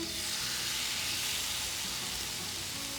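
Cuban palomilla steak sears in a hot pan, giving a steady, close, broadband sizzle that holds level and continuous with no talking.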